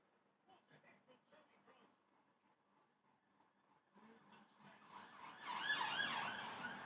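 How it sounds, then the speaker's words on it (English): An emergency vehicle siren swells up loud and wailing over the final two seconds, following a stretch of quieter, low-level talk. "There's your sirens for the day."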